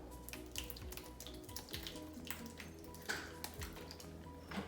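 Liquid trickles and drips out of a model small intestine in a digestive-system demonstration, a faint, close, irregular run of splashes and drops with no talking.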